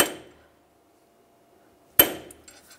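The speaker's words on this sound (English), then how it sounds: "we're just gonna take a punch and a hammer, line that up, and just tap it," A hammer taps a metal punch to peen over a front lower ball joint on a 2004-2009 Toyota Prius, two sharp metallic strikes about two seconds apart, close and clear with brief ringing.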